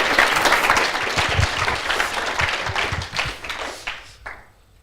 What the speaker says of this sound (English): Give a round of applause for Emiel and Sonny.